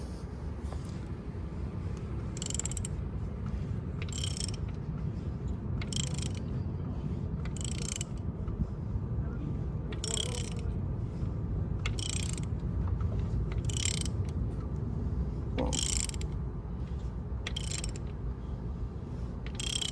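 A ratchet driving a 19mm socket on a Suzuki Katana GSX-F 600 motorcycle, giving bursts of rapid clicking at fairly regular intervals over a steady low mechanical background, close and moderately loud.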